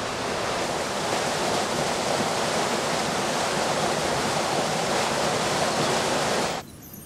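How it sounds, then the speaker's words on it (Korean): A mountain stream on Mount Baekdu in early spring rushes through rock crevices, flowing steadily and loudly, a dense continuous splashing like a fast stream over rocks, cutting off abruptly at the end. "백두산의 첫 봄을 알리는 물소리"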